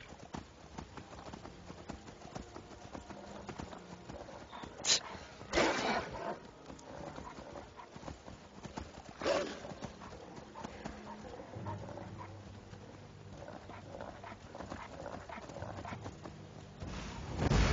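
Horse hooves clip-clopping steadily in Skyrim, a continuous rhythmic trotting with a few sharper accents, moderately loud over faint game ambience.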